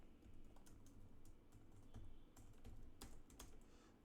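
Faint, close keystrokes tap irregularly on a computer keyboard as C++ parser code is typed, with a few louder key hits near the end and no speech.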